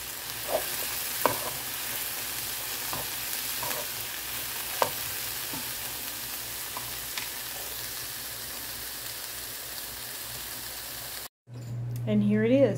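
Stir fry sizzling in a pan for a home Asian-style dinner, a steady broadband hiss with a few sharp pops, ending in a brief gap and a short burst of other sound.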